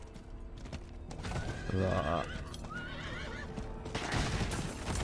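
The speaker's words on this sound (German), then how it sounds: "Mein Pferd dreht manchmal ein bisschen durch." A horse in Diablo IV whinnies loudly in the middle, with clip-clop hooves and game sounds around it, and someone speaking briefly.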